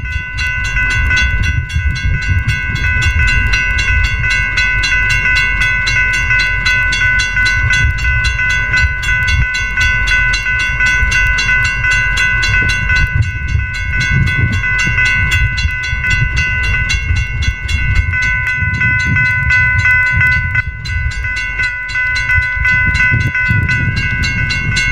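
A GS Type 2 or Type 3 electronic bell at a railroad crossing in the Roblox video game rings loud and steady, with rapid repeated strikes over a low rumble, for about twenty-five seconds.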